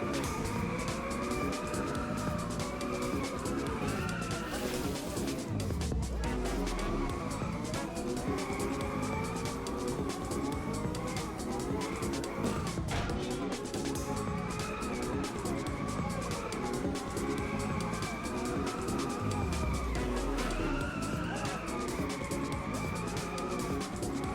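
Continuous engine drone from a car drifting in the racing game Inertial Drift, with pitch rising and falling as it slides through corners, steady and loud throughout with no talking.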